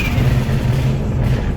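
Single-turbo BMW 335i running on ethanol, pulling hard in second gear, a loud close engine roar that stays steady over the short burst with no talk.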